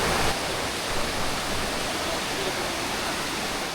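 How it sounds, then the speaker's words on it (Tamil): Siruvani water rushing down from the dam in forested foothills, a constant loud broadband roar of falling water filling the whole moment, steady and unbroken. "உலகத்திலேயே சுவையான வாட்டர் அப்படின்னு சொல்லக்கூடிய சிறுவாணி தண்ணி இங்கே தான் ஆரிஜின் ஆகிட்டு வருது"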